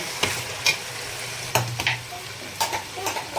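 Spices and masala fry in oil in a pan for a black chickpea and rice dish, a steady close sizzle broken by several sharp scraping stir strokes of a spoon against the pan, with no talking.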